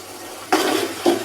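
Water poured into a cooking pot of red chilli powder, crushed red chilli and salt, giving two short splashy sizzles close by, a long one and then a briefer second burst.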